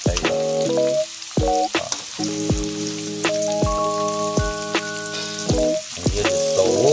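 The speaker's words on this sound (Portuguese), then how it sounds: "Aí, colocamos a nossa carne seca aqui, ó. Vamos refogar, ó." Dried meat and cassava (aipim) fry in a pan with a crackling sizzle, while sharp spatula knocks and strong tonal clatter sound through it.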